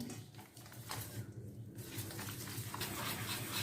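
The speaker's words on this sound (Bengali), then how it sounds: "ব্যাটারটা আমি আরও ফেটাবো" Cornflour batter for aloo chop is whisked in a bowl, a soft, quick rhythmic tapping and swishing of the whisk against the batter, close but fairly faint, with no talk.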